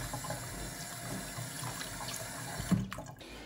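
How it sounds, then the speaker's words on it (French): Soaked dried chickpeas rinsed under a running kitchen tap, a steady close stream of water splashing into a sink, ending with a brief louder splash and clatter. "je vais venir les rincer à l'eau. Jusqu'à l'obtention d'une eau claire"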